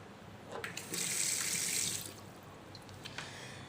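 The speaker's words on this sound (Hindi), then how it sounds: "अभी हम पानी चालू करेंगे।" A Kohler 18057 touchless faucet, just serviced, runs for about a second as a soft, hissing stream with faint drips before and after, quiet and nearby.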